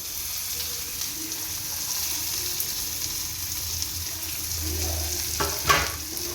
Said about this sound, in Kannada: ಇದನ್ನು ಫ್ರೈ ಮಾಡ್ತೀನಿ